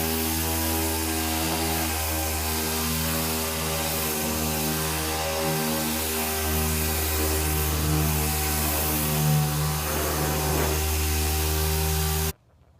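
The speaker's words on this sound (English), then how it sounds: "after buffing the entire hood" Polisher buffing the wet-sanded hood of a Datsun 280Z, a steady loud motor drone with a strong hum that cuts off abruptly at the end, without talk.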